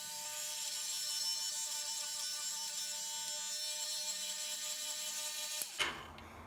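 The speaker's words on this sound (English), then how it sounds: "so I'm gonna drill a hole." A power drill whirs with a steady high-pitched whine for several seconds, drilling a hole in a carbon fiber stabilizer for a Tamiya Mini 4WD car, then cuts off abruptly with a brief clunk.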